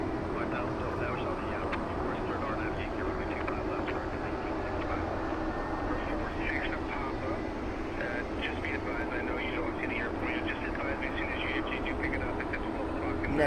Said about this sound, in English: Next up is a 737 MAX 9 from Alaska Airlines, heading to Seattle.